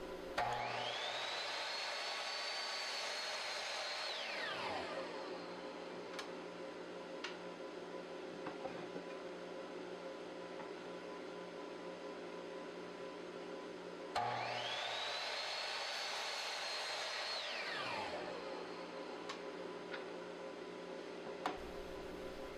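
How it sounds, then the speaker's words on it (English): A miter saw spins up with a rising whine, bites through a wooden apron piece and winds down, then repeats the cut about ten seconds later, with workshop dust-collection hum running steadily underneath. "Then I cut the 2 long apron pieces to the final length at the miter saw."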